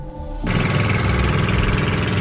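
A motorboat engine kicks up and runs loud and steady with a throbbing mechanical drone, close by, travelling through deep floodwater over a village road.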